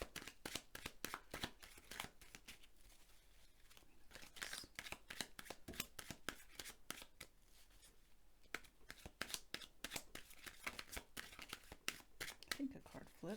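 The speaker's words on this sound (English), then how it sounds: "I think a card flipped." Tarot cards are shuffled by hand in a quiet room, a rapid series of crisp riffling snaps and papery flicks in bursts, close and soft, with one card flipping amid the shuffling.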